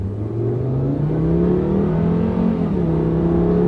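A car engine revs up steadily, its pitch climbing then dropping briefly as the gears shift smoothly, loud and close throughout.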